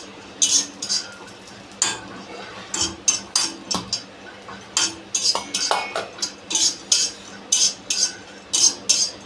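A utensil scrapes and clinks against a metal wok while roasting food, in quick, uneven strokes, about twenty sharp scraping bursts, close and clear with a faint background hum.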